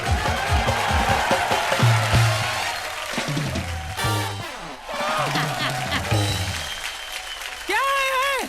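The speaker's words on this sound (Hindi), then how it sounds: "जोरदार तालियां हो जाए चंकी सर" Studio audience applause for Chunky sir on an Indian comedy stage show, a steady clapping wash lasting several seconds with music and voices mixed in, fading toward the end as a musical sting plays.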